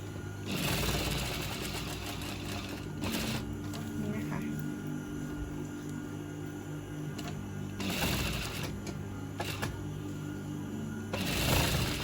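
A sewing machine stitches around the edges of a square pillow cover in steady rapid bursts, pausing briefly between runs, with a faint voice in the background.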